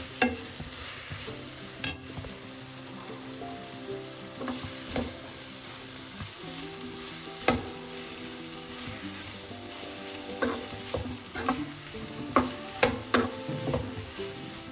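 Small onions and chicken being sautéed in a pan for a chicken curry, a soft steady sizzle with repeated clacks and scrapes of a spoon stirring, clustering more busily toward the end.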